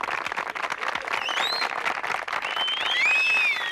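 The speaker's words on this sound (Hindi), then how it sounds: "जोरदार तालियां।" An audience at a contest's final round breaks into sustained clapping, with a couple of rising whistles cutting through the applause.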